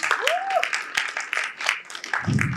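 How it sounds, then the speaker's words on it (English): A crowd claps steadily, a broad patter of many hands with a few sharp whoops or shouts rising over it. "A big round of welcoming applause for Chirodeep Chaudhri, please."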